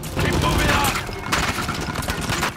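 Machine gun fire in Uncharted 4: A Thief's End on PS4, a dense, continuous rattle of automatic bursts from a machine gunner's nest, loud and sustained amid chaotic combat, with a player's voice talking over it.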